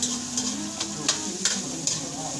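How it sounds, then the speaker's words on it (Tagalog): Onion, garlic and tomato sautéing in a pan for ginisang upo with sardines, a steady sizzle with periodic scraping stir strokes, close and alone. "Nakalagay ko pala ng sibuyas, bawang at kamatis, ang bango na."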